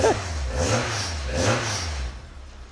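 A car engine revs in a few rising and falling surges, fairly close and loud, then settles toward a quieter idle.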